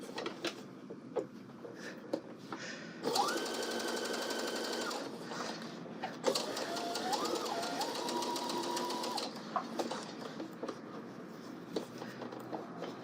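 A domestic sewing machine stitches a colorblocked angle coat in two sustained runs of whirring motor and rapid needle clatter, separated by quieter pauses with light handling noises.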